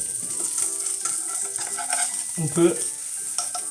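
An omelette with Emmental cooks in a pan with a soft, steady sizzle and a few light scraping sounds, while a voice speaks briefly.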